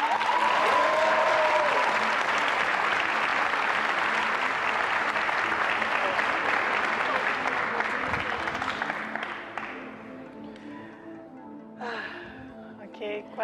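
Studio audience on the Turkish game show Var mısın Yok musun breaks into loud, sustained applause that gradually thins out and fades, leaving scattered claps and faint voices at the end.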